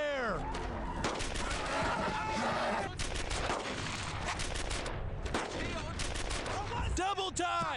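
Brothers in Arms: Earned in Blood gameplay fills with heavy combat gunfire, rapid volleys of rifle and machine-gun shots close and loud and nearly continuous, while shouted voices and whistling ricochet-like sweeps break through between bursts.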